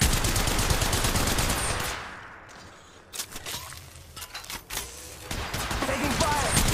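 Rapid automatic gunfire bursts in the mobile shooter Apex Legends, loud and dense at first, then pausing before scattered shots and renewed firing.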